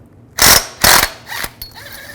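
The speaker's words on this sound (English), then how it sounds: "Remove this pulley right here. Just use a 15mm socket" A ratchet fitted with a 15mm socket loosening the drive belt pulley bolt on a 2005-10 Volkswagen Jetta, three quick close clicking bursts followed by a fainter rattle.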